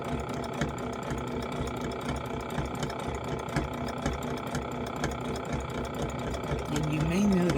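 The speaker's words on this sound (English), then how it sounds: "I'm running the inside edge of my presser foot along the edge of my item that I'm sewing down" A domestic sewing machine stitches decorative appliqué along the edge of a quilt-block piece, its needle mechanism ticking and whirring at a steady quiet pace throughout, with a brief rising hum near the end.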